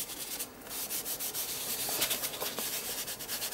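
A baby wipe rubbing paint around a mixed media art journal page, a close, continuous scratchy swishing with quick back-and-forth strokes and no speech.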